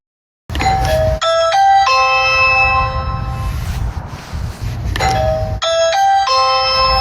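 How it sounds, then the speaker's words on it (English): A Ring doorbell outside and the indoor chime sound together: two loud multi-tone ding-dong chime sequences a few seconds apart, each with sharp repeated bell strikes and ringing decay, close and with no talk. "you can hear that both my chime inside and the doorbell outside ring when someone presses the doorbell"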